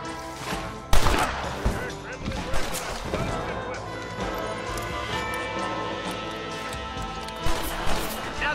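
Gunshots in a Red Dead Redemption shootout, several sharp, loud cracks spread across the clip at an uneven pace, set against a steady game score and ambient sound.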